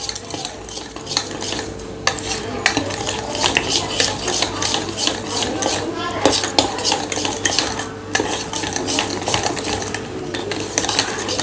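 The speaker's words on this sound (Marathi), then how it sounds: "यामध्ये मी थोडंसं चॉकलेट सिरप घालते आता हे व्यवस्थित मिक्स करून घेऊया" A spoon stirs chocolate syrup into chocolate cupcake batter in a bowl, with close, steady scraping and clinking against the sides that runs continuously, with no one talking.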